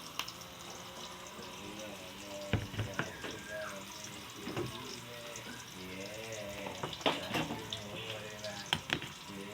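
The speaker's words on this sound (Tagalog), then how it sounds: "Sunod na natin ang kalabasa muna kasi alam niyo naman ang kalabasa matagal lutuin." Squash cooking in a pan with a steady soft sizzle and some watery bubbling, a few louder clatters and stirring knocks, close and moderately quiet, with no talk.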